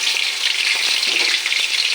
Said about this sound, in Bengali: এবং আমি ভাজা করে নেব দেখো আমার চিংড়ি মাছটা খুব সুন্দর করে পকোড়া করেছি